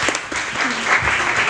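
A crowd at a lecture or talk event claps steadily, dense applause sustained across the whole stretch, fairly loud, with a faint murmur of voices underneath.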